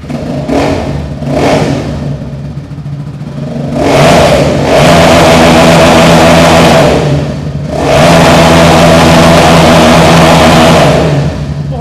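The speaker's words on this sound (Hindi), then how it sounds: "लेकिन जो 0 मीटर है ये स्टॉक एग्जॉस्ट के साथ आती है, मैं आपको साउंड इसका टेस्ट करवा देता हूँ जी" A sports bike on its stock exhaust revs hard three times, each burst rising into a loud, sustained roar before easing back to a steady idle, close up with no talking.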